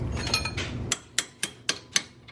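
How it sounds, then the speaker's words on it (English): Five sharp, evenly spaced taps seat a part into place during installation of angle mods, following a brief scuffle of handling noise; the taps are close and crisp. "You can just tap it in."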